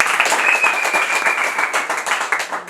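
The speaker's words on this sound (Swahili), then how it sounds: "Tumpigie makofi." A crowd at a football club gathering in Burundi claps for a few seconds, a close, lively burst of applause with a faint whistle-like tone running through it.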